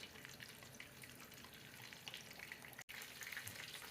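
Beer-battered fish frying in hot oil gives a steady, dense sizzle with crackling pops, constant throughout apart from a split-second dropout near the end.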